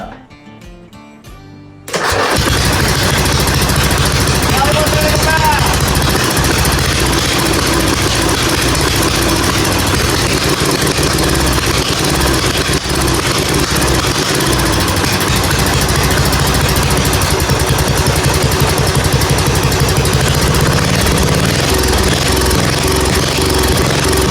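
Tuned engine fires up abruptly after a quiet couple of seconds and then runs loud and steady, a dense mechanical roar with a constant low idle-like rumble carrying on to the end.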